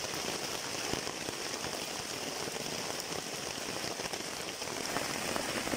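Heavy rain pours steadily on a campsite during a four-day trek, a dense, constant hiss of drops drumming on surfaces for the whole stretch, close and even, with no voices.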